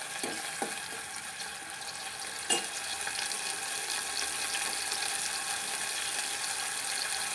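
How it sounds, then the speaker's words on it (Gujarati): Tomatoes, chillies and curry leaves fry in a cumin tempering for chana ghughri, giving a steady, even sizzle with one sharp clink partway through and no talking. "આ રીતે એનો વઘાર થઈ ગયો"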